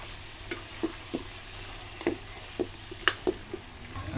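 Duck meat roasts in its own rendered fat for a village-style Assamese duck curry, giving a faint, steady sizzle with scattered soft clicks and pops, heard alone.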